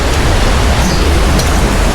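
A rushing stream pours with dense, steady broadband noise much like heavy rain, loud and close with no break.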